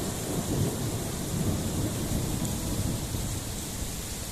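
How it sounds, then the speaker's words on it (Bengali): Low rolling thunder rumbles beneath steady rain falling on surfaces, a continuous wash of noise with no voices. "এখন আবারও আকাশে ডাক শুরু হয়ে গেছে, বজ্রপাত হতে পারে।"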